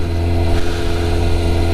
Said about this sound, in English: I don't know if police stop you for having a slightly loud exhaust.